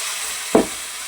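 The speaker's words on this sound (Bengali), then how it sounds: "এবার মাখিয়ে রাখা মটনটা দিয়ে দেবো।" Marinated mutton goes into hot oil already frying dry red chillies, cumin, cinnamon and whole onions, giving a steady close sizzle with one short burst as the meat drops in. No one speaks.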